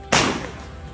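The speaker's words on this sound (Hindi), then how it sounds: "और ये पटाखे बज रहे हैं" A single sharp firecracker bang bursts out nearby during a celebration, a sudden loud crack that fades quickly into a faint background hum.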